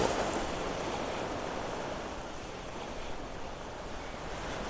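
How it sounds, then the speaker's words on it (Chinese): Ocean waves wash steadily against the shore in a broad, continuous roar of surf, with no voices over it. "想跟大家一起听一听大海的声音"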